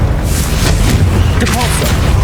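Fiery spell blast from Hogwarts Legacy, a deep booming low rumble sustained across the moment, with faint voice-like tones mixed in over the dense explosion noise.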